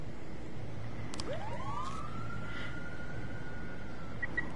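A police siren from a police commissioner video game wails in one long rising sweep that settles into a steady tone, heard alone over a constant background hum.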